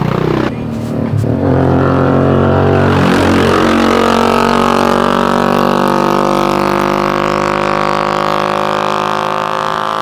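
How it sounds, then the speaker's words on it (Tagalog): A loud tricycle engine runs just ahead, droning steadily and close with a strong, continuous tone from start to finish. "Grabe naman yung tunog ng tricycle na nauna sa akin."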